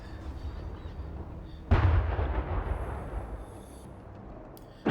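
Self-propelled gun artillery firing in a tank video game: one loud, sharp blast that rolls off into a long decaying rumble, with a faint click at the very end and no talk.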